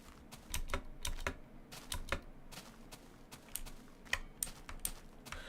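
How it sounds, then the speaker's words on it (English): Loud mechanical computer keyboard sitting right beside a microphone, rapid irregular clacking keystrokes close and sharp with brief pauses between bursts, no voice. "the keyboard is so loud and so close to the mic that it also triggers it a lot"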